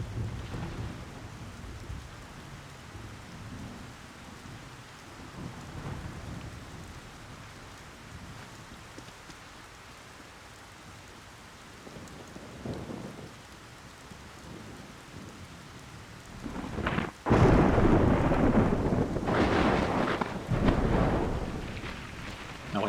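Thunderstorm with steady rain in the stealth game Splinter Cell, a constant wash of rainfall with low rumbling thunder, swelling into a louder, closer crack and roll near the end.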